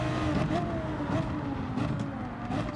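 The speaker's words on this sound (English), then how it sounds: "So I'm going to accelerate out in second gear to see how we do." Race car accelerating out of a corner in second gear in Gran Turismo 7, a steady close engine drone holding through the short stretch with slight rises in pitch.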